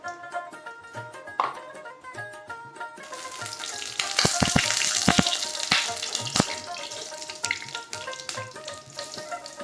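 Oil sizzling in a pan while a gravy is cooked with tomato, green chilli and ground spices after fritters were fried, a close crackling hiss that grows louder partway through over faint steady tonal hum, no speech.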